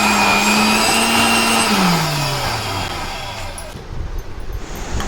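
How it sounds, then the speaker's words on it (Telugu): A mixer grinder blending mango pieces with milk and curd gives a loud, steady motor whine that slides lower as it winds down and cuts off, leaving near quiet. "ఇంకా వేరే ఏమీ యాడ్ చేయకుండా మెత్తగా మిక్సీ పట్టుకోవడమే"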